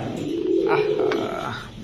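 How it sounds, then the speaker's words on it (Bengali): Domestic pigeons of fancy breeds such as Army, Pankhi, Lalpatti and Cobra coo softly nearby, a low throaty murmur rising in the middle of the clip over faint background noise. "অনেক সুন্দর কবুতর গুলো মাশাআল্লাহ"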